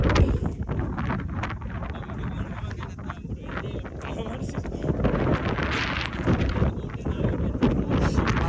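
On the hill at Dambulla, strong wind buffets the microphone in a steady, loud rumble with gusty swells throughout.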